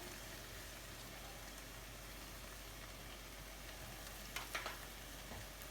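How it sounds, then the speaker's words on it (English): Black beans sauté in a pan with a faint, steady sizzle that continues throughout, and a few light clinks appear near the end. "While that's sauteing, I'm going to add some seasoning, some black pepper, some cumin,"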